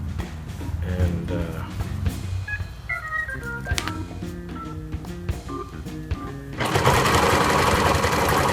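A sewing machine stitches a seam on a baby costume, its motor hum running alongside tonal sounds before a louder, dense buzzing burst of close stitching toward the end.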